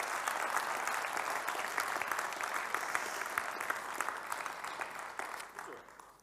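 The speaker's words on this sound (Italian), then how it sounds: "vorrei chiedervi un altro caloroso applauso" Steady applause from a large audience at a business association's public assembly, sustained throughout and slowly tapering toward the end.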